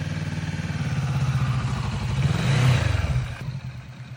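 A motorcycle engine revs during a riding lesson through a turn, with a steady mid-range drone that swells toward a louder peak and then eases off, close and continuous with no talk.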